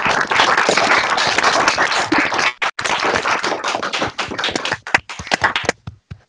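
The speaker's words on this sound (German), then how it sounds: "Und dann gibt es erstmal einen ganz großen Applaus für das ZF-Team." Loud, dense applause from a crowd, sustained for several seconds with a brief dip midway, then thinning into scattered claps.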